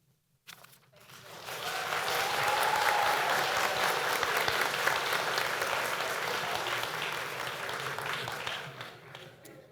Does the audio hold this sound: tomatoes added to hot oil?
no